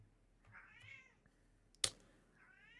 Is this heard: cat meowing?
yes